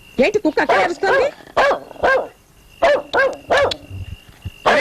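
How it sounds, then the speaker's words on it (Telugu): Loud, sharp barking from a dog in a Telugu film comedy scene from Peddarikam comes in quick repeated bursts, mixed with voices. "కుక్క ఎందుకు అరుస్తుంది చూడండి రా."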